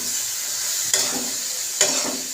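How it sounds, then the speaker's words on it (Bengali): Onion and garlic fry in oil in a pan during chicken curry preparation, a steady close sizzle broken by two sharp scraping stirs about a second apart, with no talking. "আমি এবার রসুনটা দিয়ে ভালো করে পেঁয়াজটাকে ভেজে নেব।"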